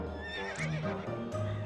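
A horse in the video game To The Moon gives a clear, close whinny over about two seconds, with hoof clip-clops alongside and no talk.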